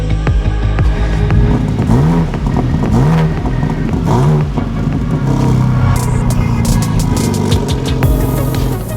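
BMW M3 Touring driving and accelerating, its engine loud and close as it revs up through several gears in rising, falling sweeps, followed by a steady rumbling cruise with clattering shift sounds.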